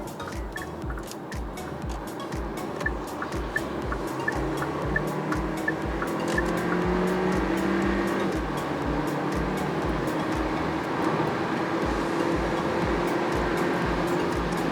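A Hyundai Kona N Line 1.6-litre turbo engine drones and swells loudly as it accelerates hard, heard from inside the cabin along with steady road noise and a faint rhythmic thumping.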